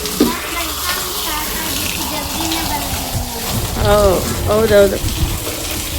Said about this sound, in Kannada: ಮೊನ್ನೆ ವಾಶ್ ಮಾಡಿದ್ದೆ, ಮತ್ತೆ ನೀರಿಂದ ತೊಳ್ಯಾಕತ್ತೀನಿ